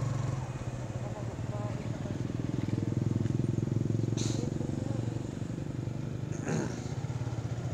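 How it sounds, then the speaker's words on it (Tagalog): A motorcycle engine putters steadily nearby, a low chugging rumble with faint clatter over it. "Hindi, may pumasok, motor yun."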